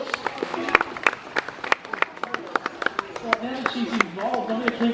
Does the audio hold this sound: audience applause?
yes